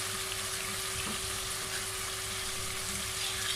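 Chicken for a Pakistani biryani sizzling in a pan, a continuous close, even frying hiss with a low steady hum underneath.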